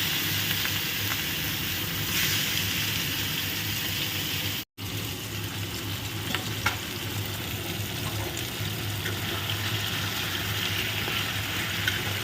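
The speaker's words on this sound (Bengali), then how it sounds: "তো সেই জন্যে একটু মাছগুলো ভেজে নিই।" Cut fish pieces frying in oil make a dense, continuous sizzle and crackle, close and steady with small pops, broken only by one brief silent gap.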